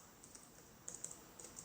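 Faint keystrokes from a computer keyboard as Python code for a nested if program is typed, with a handful of light, quiet taps clustered near the end.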